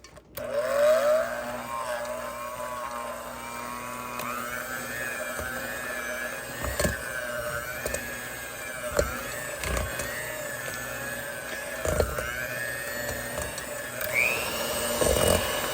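An electric hand mixer whirs steadily at high speed as it whips Snickers creamer with butter and cream cheese for a gingerbread cake, its pitch rising and shifting with clicks and bumps against the bowl.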